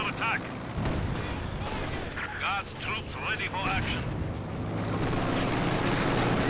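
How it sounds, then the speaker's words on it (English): Mortar blasts and gunfire from the World War II strategy game Company of Heroes 2, with an MG-42 and a Panther tank in the fight, in a dense, steady battle mix of repeated booms and bursts. "Great mortar hit there onto the MG-42, about to take him out"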